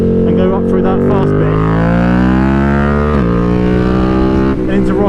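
A BMW F 900 R Cup Racer motorcycle ridden fast, its engine note loud and steady with rising revs and a brief shift break midway, a voice talking over it.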